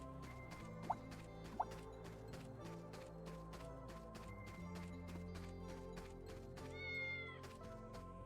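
Cats in the video game Fantasian Neo Dimension let out several short meows over a quiet game backdrop of soft rhythmic ticking and music, with two sharp high accents early on.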